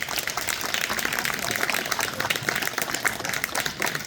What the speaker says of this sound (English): Another hand of applause for Eleanor